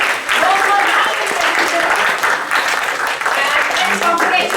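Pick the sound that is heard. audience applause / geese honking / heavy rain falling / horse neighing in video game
audience applause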